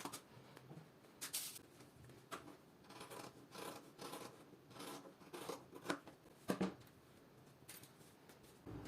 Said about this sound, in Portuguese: vou cortar bem em cima dessa linha com o meu tecido ainda dobrado